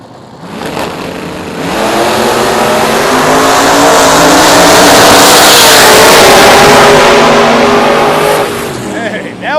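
Race car engines roar during a race, building from a low rumble into a loud, sustained revving blare that peaks in the middle and then eases off.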